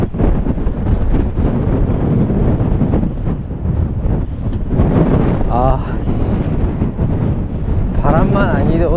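Strong, relentless wind at the Cape Kamui lookout on the Shakotan coast roars and buffets the microphone without pause, with voices heard faintly through the gusts.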